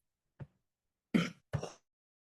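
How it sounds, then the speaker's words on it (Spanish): Three brief coughs, one small and quiet, then two harsher ones in quick succession, close by against silence. "me da mucha pena con esta tos"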